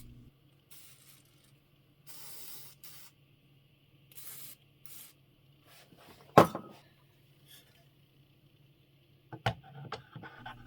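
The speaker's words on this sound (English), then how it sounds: "Spray grease on the axle." Several short hissing bursts of aerosol grease sprayed onto an axle of a German WW2 radio, close by, separated by quiet pauses, with a few sharp knocks and clatters of parts being handled.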